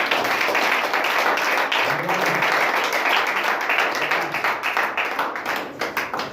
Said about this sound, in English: Give Minister Jimmy a hand clap.